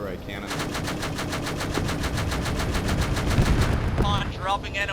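An armored vehicle cannon fires a rapid, evenly spaced burst of heavy shots during a field exercise, loud and close, with a radio voice cutting in near the end.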